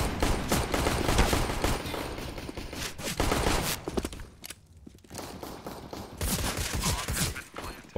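Counter-Strike: Global Offensive gunfire on the Train map during a competitive match, with dense bursts of rifle shots and rapid volleys, a brief lull in the middle, then more crackling fire along with faint footsteps.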